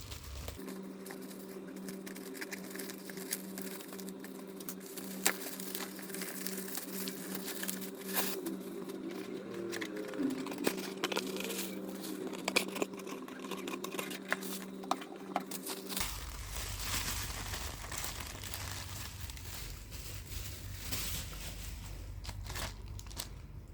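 Rustling and crinkling of a white replacement keyboard package for an Asus X44H laptop being opened, soft crunches and crackles continuing steadily throughout with no talk.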